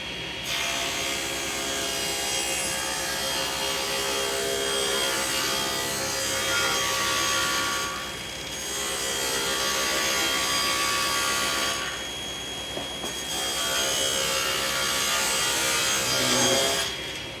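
Table saw cutting cedar boards for a potting bench: three long, loud cuts of roaring blade and motor, each separated by a brief dip, no one speaking.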